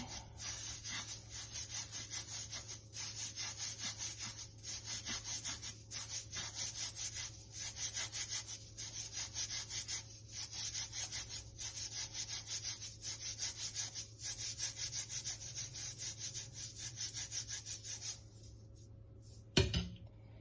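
Flour that has hardened over heat is mixed by hand in a pot, making a steady rhythmic scraping and rubbing. The strokes repeat evenly for about eighteen seconds, then stop with a final knock.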